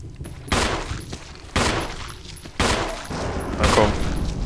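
Gunshots ring out in the video game Resident Evil, four spaced heavy blasts at roughly one-second intervals over a quiet game background.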